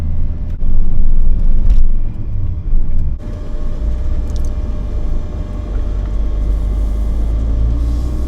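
A camper van engine labors in second gear climbing the steep Applecross Pass in Scotland, a steady loud low rumble heard from inside the cabin, with a brief bump and a slight drop in level partway through.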